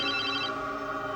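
A telephone rings with a bright electronic trill that cuts off partway, leaving a sustained tonal hum and background music in a tense indoor drama scene.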